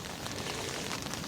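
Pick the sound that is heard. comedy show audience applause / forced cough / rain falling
rain falling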